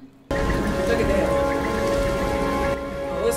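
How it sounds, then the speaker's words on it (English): Dense, steady clatter of softball-size hail pounding down in a film storm scene, a loud wash of impacts that starts abruptly and continues without a break. "That's a sign right there when you see that softball size hail."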